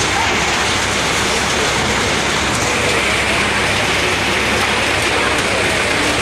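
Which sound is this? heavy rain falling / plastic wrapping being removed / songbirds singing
heavy rain falling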